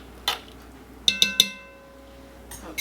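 Metal spoon clinking against a cast iron pot while stirring seasoning into liquid for pulled pork: three quick, close, bright clinks in a row, with softer single taps before and after, no talking.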